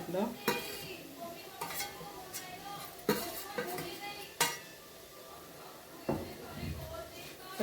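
A spatula stirs grated coconut into a simmering vegetable curry, scraping and clinking against the pan in irregular strokes over a faint sizzle, with a voice heard now and then.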